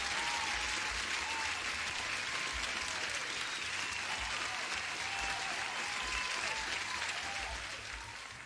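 Sustained applause from a crowd, dense and even clapping holding steady for several seconds before easing slightly at the end.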